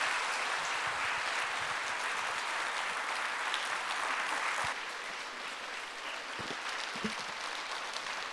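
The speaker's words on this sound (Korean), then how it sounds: "박수로 따뜻하게 환영하겠습니다." A church congregation claps steadily for about eight seconds to welcome a pastor to the pulpit, a dense, continuous wash of hands from a full room that eases slightly partway through without stopping.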